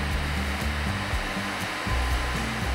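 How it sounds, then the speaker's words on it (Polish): Working brewhouse equipment in a Grodzisk brewery gives off a loud, steady machine hum with a low pulsing, cycling drone, close and filling the space, with no voices. "Warzelnia, szanowni państwo, działająca, co zresztą słychać"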